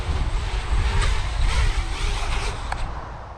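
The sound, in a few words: BrotherHobby Hyperbola 5 inch FPV drone flying in to land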